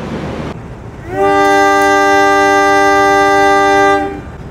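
The Mutiara Timur train sounds its loud, sustained horn at Probolinggo station at night, a single long, steady blast of about three seconds rising over background rumble and fading at the end.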